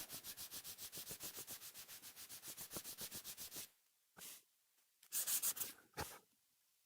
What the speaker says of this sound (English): Just a little bit of sanding on this part.